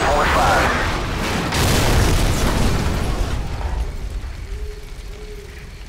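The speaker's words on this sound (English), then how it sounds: "Incoming missile!" Missile explosion in Call of Duty 4: Modern Warfare, a loud booming blast with rumbling debris that fills the first few seconds and then slowly fades, with voices shouting over it.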